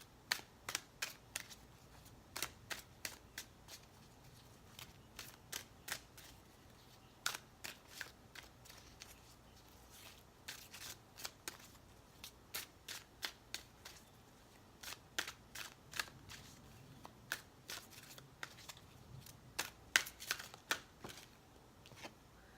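Tarot and Angel Answers oracle cards are shuffled and drawn with quick bursts of crisp riffling and flicking taps, close and fairly quiet, with no voice.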